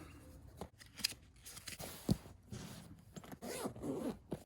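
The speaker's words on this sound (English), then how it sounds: "Got a nice zipper on the inside there for parts and pieces and whatnot." An inner zipper on a DJI Air 2S drone bag drawn open in short, scratchy pulls, faint and close, with light rustling and handling noises around it.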